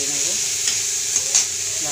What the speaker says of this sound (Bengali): পেঁয়াজটাকে আমি ভেজে নেব